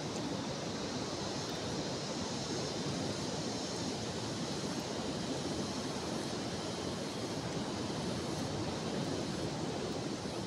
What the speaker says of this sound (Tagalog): Lakas ng hangin dito mga idol.